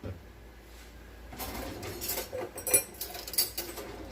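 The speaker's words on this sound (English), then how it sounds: "Stir that up real well." Stirring lasagna sauce in a pot, with quiet scraping and clinks of a utensil against the pot, soft and close, in irregular bursts after a brief near-silent start.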